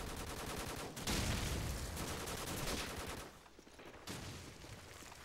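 Sustained RPD light machine gun fire in Call of Duty 4, a loud dense burst of rapid shots running continuously for several seconds before easing slightly.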